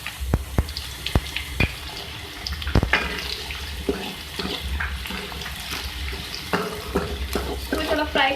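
Star anise and bay leaf fry in hot oil in a pan while a potato, brinjal and spinach dish is being cooked, giving a steady close sizzle broken by sharp clicks and scrapes of stirring.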